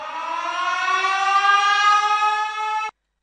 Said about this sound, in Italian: Come potete sentire, parte la sirena.